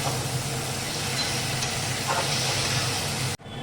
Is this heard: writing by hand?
no